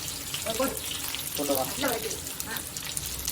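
Tap water running steadily into a sink as onions are rinsed, a constant splashing hiss at moderate volume with someone talking over it.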